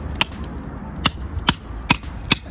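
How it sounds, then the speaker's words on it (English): Hammer and chisel chipping loose thin-set mortar out of a stone wall during repair, four or five sharp, close metallic strikes spaced about half a second apart over a low background hum. "And then I've got a pretty strong hammer."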